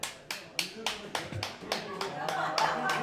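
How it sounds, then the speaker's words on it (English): A few lacrosse teammates clap in a pub vote, sharp evenly spaced claps about three per second with chatter and room noise rising beneath them. "clap it up."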